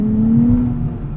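A 2023 Nissan Z engine pulls hard under acceleration, its steady rising drone loud and close throughout, with no talking over it.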